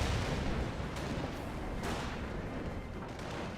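Continuous rumbling barrage of artillery fire in the World War II strategy game Company of Heroes, loud and dense, with a couple of sharper blasts standing out from the steady booming throughout.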